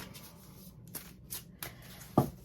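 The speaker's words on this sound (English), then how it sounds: "Let me give it a few more shuffles." Sacred Forest Oracle cards shuffled by hand for a three-card reading, giving soft papery riffles and a few short bursts, one louder flick near the end, quiet and close.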